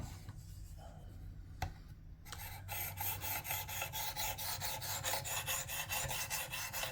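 A plane blade from a PL-XE hand plane is rubbed on a fine, high-grit sharpening stone, giving a steady, rhythmic rasping scrape back and forth, close and continuous after a brief quieter start.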